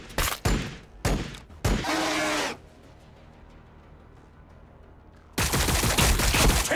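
Gunfire in the strategy game Warhammer 40000 Battlesector during a multiplayer match: several sharp loud bursts in quick succession, a short lull with faint background, then a sustained heavy volley.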